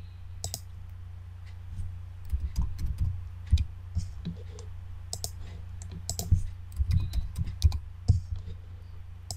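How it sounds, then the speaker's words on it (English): Rapid keyboard clicks as a country name is typed on a computer keyboard, close and fairly loud in irregular bursts over a steady low hum, with no voices. "I'm going to type Sweden."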